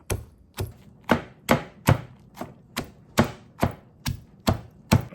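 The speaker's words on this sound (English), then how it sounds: "I'm going to pound my tamarind until it become a little paste" Young tamarind pounded into a paste for a Khmer catfish and tamarind dish: about eleven sharp, evenly spaced thuds, close and fairly loud, repeating roughly twice per second with no talking.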